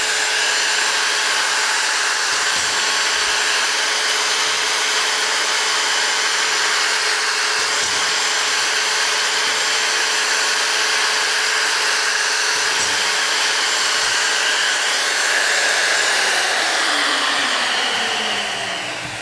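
A Pistorius WL-S dual-spindle dovetail key machine runs a cycle after a foot-pedal tap, giving a steady, loud whirring drone with faint rhythmic thumps every few seconds and a brief shift in pitch near the end.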